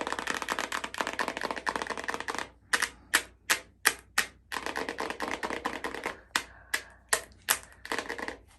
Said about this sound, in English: I'm gonna do a little bit of ASMR because I got new nails